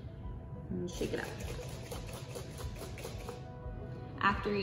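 Water sloshing rapidly inside a small plastic spray bottle of homemade car air freshener mixture as it is shaken for a few seconds, a close, steady rattling swish.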